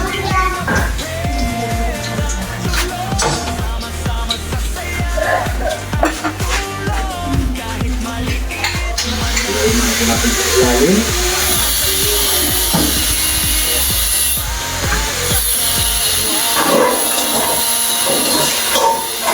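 Steady sizzling hiss of food frying in a pan, loud and continuous, with clattering and background music underneath.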